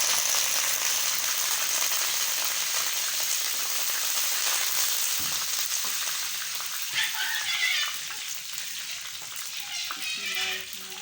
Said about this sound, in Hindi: माँ जी ने कढ़ाई में ऑयल डाला, माँ जी इसमें साबुत ज़ीरा ऐड कर रही हैं।